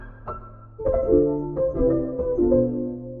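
A few low, mellow piano chords sound one after another, with soft sustained tones and a smooth, darkened quality from a pitch-shifter plugin lowering them, and no voices.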